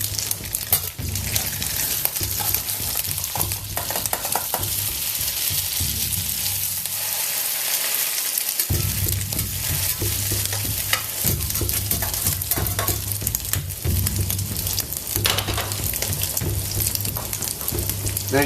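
Crab cakes fry in a pan after being flipped, giving a loud, constant sizzle with steady crackling. It is heard alone, with a brief dip partway through.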